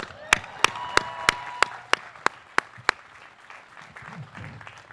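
Crisp, evenly spaced hand claps ring out at Washington College's 2017 commencement ceremony, about nine distinct strikes close by that stop abruptly and leave a quiet room with faint murmurs.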